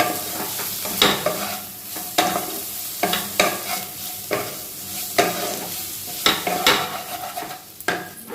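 Egg chicken chow mein being stirred in a hot pan, a spatula scraping and tossing noodles in steady repeated strokes over a continuous close sizzle.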